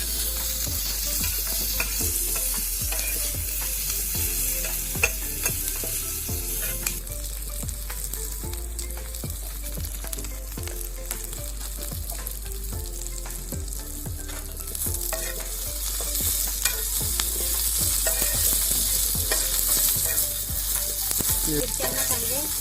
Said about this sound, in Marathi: मिरच्यांना चांगले भाजायचे